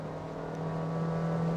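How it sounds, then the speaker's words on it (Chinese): A Honda HR-V S+ with a 121 hp 1.5-litre naturally aspirated engine and CVT drones steadily under acceleration, a sustained, even engine hum heard from inside the cabin with a rising tonal note and no talk. "这个就是 CVT 变速箱的特性，而且它对于引擎室的噪音也没有非常非常认真的去压制"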